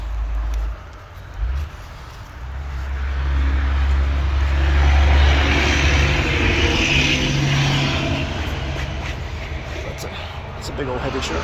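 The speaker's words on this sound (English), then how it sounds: "It's a big old heavy truck." A big, heavy truck drives past on a country road. A loud, broad rumble swells as it nears, peaks in the middle, then fades slowly, and there is some brief background noise early on.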